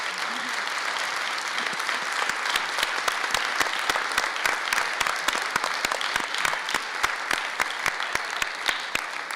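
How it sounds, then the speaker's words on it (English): Audience applause for the candidates at a Milwaukee mayoral candidate forum: dense clapping from a crowd, fairly close and steady, gradually thinning into scattered individual claps as it goes on. "Let's give a big round of applause for all the candidates."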